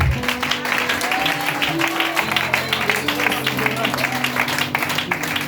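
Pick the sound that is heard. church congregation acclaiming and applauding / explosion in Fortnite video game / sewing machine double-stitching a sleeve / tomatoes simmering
church congregation acclaiming and applauding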